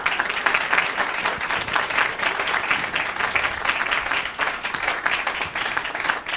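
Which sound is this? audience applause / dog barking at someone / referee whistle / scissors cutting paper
audience applause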